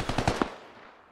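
Gunfire in the video game Squad: a quick burst of four or five sharp shots fading into a short echoing tail, no voices.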